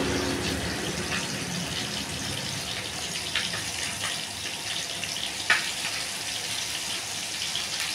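Hot water poured lightly into a dish of stalks being prepared for steaming, a soft steady running trickle throughout with a couple of small clinks, no one talking.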